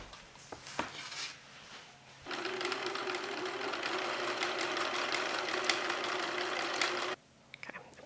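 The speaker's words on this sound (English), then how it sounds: "I'm going to stitch across at the seam allowance to connect it" After a few faint handling clicks, a sewing machine hums and whirs in one steady run of about five seconds, stitching the seam of a neck binding on a bedsheet shirt, then halts abruptly.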